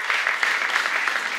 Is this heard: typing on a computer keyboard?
no